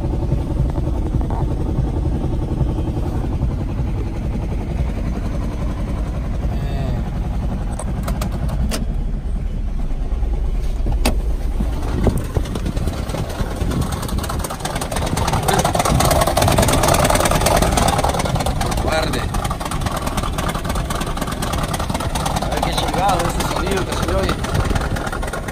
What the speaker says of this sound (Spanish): ¿se oyen el sonido que va haciendo el vehículo? Como que si se va deshaciendo por pedazos el motor.